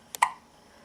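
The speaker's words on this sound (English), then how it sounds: "with the hiccups." A baby hiccups once, a soft quick catch followed by a brief squeaky note, close and faint in a quiet room.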